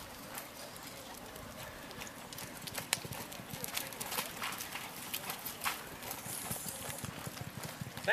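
Horse hooves clip-clop on an arena floor during a rodeo barrel racing run at a high school rodeo in Pincher Creek, a rapid irregular drumming heard at moderate distance under an announcer's talk.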